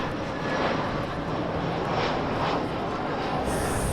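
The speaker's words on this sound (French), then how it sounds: "Ah bah les avions." Aircraft engine roar from airplanes passing overhead, a steady broadband rumble that holds loud and continuous throughout with no pauses.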